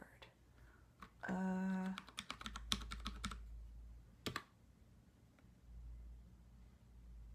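Keys clatter on a Freewrite keyboard as a password is typed, a quick burst of close, sharp clicks followed by a few scattered taps, with a brief electronic tone in the middle and quiet room noise around.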